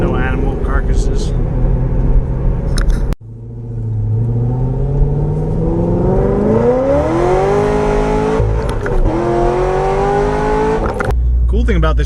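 An electric race car takes a quick test run down an empty road, its motor whining and rising steadily in pitch as it accelerates, with engine rumble throughout and brief pauses near the start and end.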